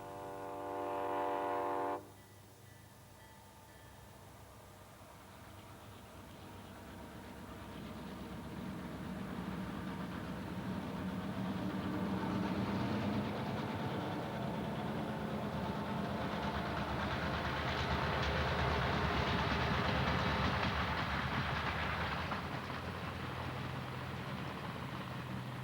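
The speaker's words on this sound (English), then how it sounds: "a run down the Shenandoah Valley with vintage 50s Southern FP7 diesels" Vintage 1950s Southern FP7 diesel locomotives in the Shenandoah Valley sound a loud multi-tone horn blast, then a heavy diesel roar builds and rumbles past with wheel clatter, staying loud for a long stretch.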